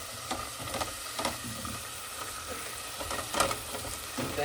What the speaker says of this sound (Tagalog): Gisahin lang natin yung sibuyas bawang.